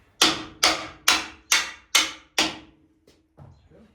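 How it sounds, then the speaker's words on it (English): Six loud, evenly spaced hammer blows ring out on the frame of a first-generation Dodge Dakota truck, each strike decaying quickly, followed by a couple of fainter knocks. "I need a hammer."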